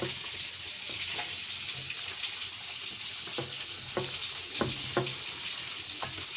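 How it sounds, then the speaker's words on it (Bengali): Hilsa fish frying in a pan of oil, a steady close hiss of sizzling with occasional soft clicks and taps, no voices. "ইলিশ মাছ ভাজা চাপিয়ে দিলাম"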